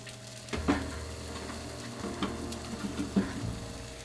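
Eggs for a Japanese rolled omelette sizzle softly in an oiled frying pan, a quiet continuous crackle broken by a few brief scraping and tapping sounds of stirring.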